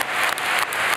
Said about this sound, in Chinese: 与会者纷纷起立鼓掌